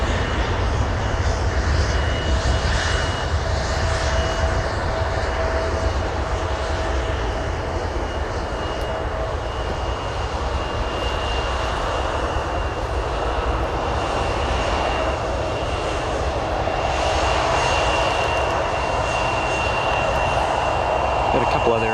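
Aircraft taxi at O'Hare Airport with a continuous loud engine roar and a steady whine, while someone talks over the noise.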